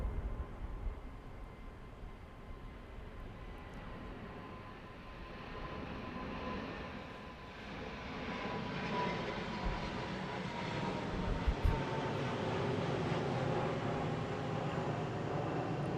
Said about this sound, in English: Sorry about all the planes.